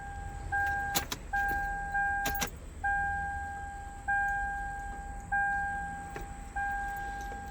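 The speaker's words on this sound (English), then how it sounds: "put the key in, cycle it a couple of times" Ignition key on a Lexus LX470 (Land Cruiser) being cycled after a starter install, bringing a steady two-tone warning chime that repeats about every second, with a few sharp clicks of the key early on.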